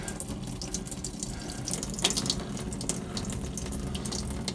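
Water flowing steadily while a Mercruiser 5.7L boat engine is flushed for winterizing, a constant splashing, faucet-like stream at moderate level with no speech over it.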